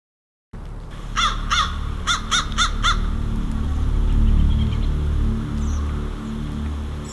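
Several crows caw in quick bursts, a cluster of harsh calls followed by steady outdoor ambience and light rustling.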